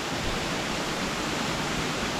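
Mackenzie Falls in the Grampians pours heavy water in a steady, dense broadband roar, constant and unbroken, heard from a short distance away with no voices.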